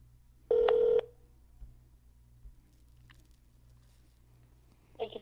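Telephone dialing tones while calling a government agency help line: one loud steady tone lasting about half a second, then quiet with faint clicks and a brief tonal burst at the end.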